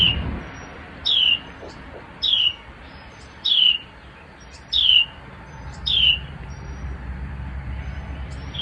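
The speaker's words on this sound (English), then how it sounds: "I could sit and listen to my little birds forever" Five short chirps from pet birds repeat at fairly even intervals, bright and clear, over a low rumbling background hum.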